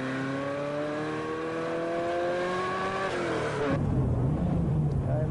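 A Ferrari F40 takes a wet corner, its engine holding a rising, revving drone with harmonic whine before an abrupt gear change drops the pitch into a lower, throbbing note; close and steady, no voices.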